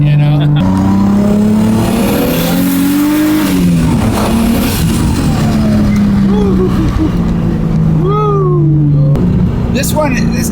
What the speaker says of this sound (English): This car sounds really good.